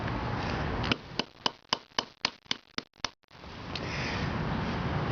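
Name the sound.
hammer cracking black walnut shells on concrete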